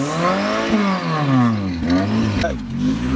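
A Chevrolet Nova's engine is revved repeatedly nearby in a workshop, pitch sweeping up and down in several rising and falling surges, with voices talking over it.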